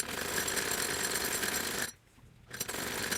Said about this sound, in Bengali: তো এখানে মাঝখানে একটা আমি সেলাই দিয়ে নিচ্ছি